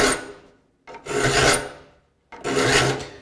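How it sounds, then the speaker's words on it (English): Metal file rasping across the teeth of a rip hand saw during sharpening, three long scraping strokes with short pauses between them, close and clear, no voices. "I'm filing the back of this tooth"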